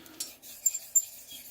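A knife edge is drawn across Wakasa and Naniwa sharpening stones, making a few soft, quiet rasping strokes with light scraping ticks between them. No one speaks.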